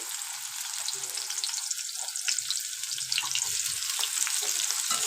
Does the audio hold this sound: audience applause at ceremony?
no